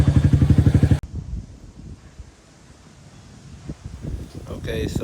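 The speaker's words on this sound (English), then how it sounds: "I'm gonna go put a couple miles on it, go fill up the tank" Dirt bike that was flooded in Hurricane Harvey and sat for five years, its engine pulsing loud and rhythmic up close for about a second before cutting off, followed by wind noise and rustling.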